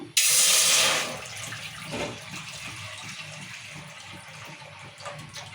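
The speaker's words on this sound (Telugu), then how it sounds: "mixie లేనికి water పోసుకున్నాము" Water is poured into a mixer grinder jar while bottle gourd vadiyalu are being prepared. A loud, steady rush of pouring comes in the first second, then drops to a quieter trickle and light handling noises.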